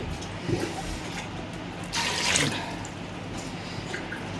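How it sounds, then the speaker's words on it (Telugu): Water is poured steadily into a pot for drumstick soup, a continuous close splashing flow that swells briefly in the middle. "దీంట్లో మనకు కావాల్సినన్ని నీళ్ళు పోసుకుందాము."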